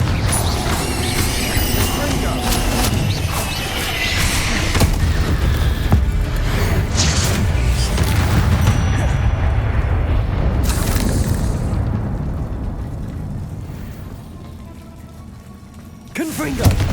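Confringo blasting spell explosions in the game Hogwarts Legacy: a loud, dense wash of crackling bursts and mechanical clatter that fades toward the end before one last sharp blast.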